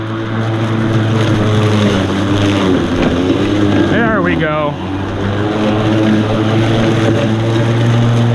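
An EGO 56-volt battery lawn mower hums steadily and loudly up close, its pitch wavering briefly mid-way as it bites into grass, with a short spoken remark over it.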